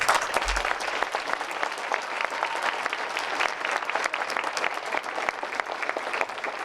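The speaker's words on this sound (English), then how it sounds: "Let's give him a big round of applause." Steady audience applause fills the room at an MLK essay writing contest, a dense continuous patter of many hands clapping without a break, with no talking over it.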